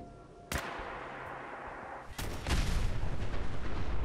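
Explosions in the video game Fallout 4, a sharp blast followed by a second heavier burst that gives way to a loud, sustained rumbling roar.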